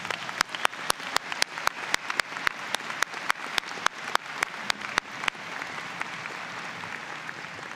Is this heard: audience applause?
yes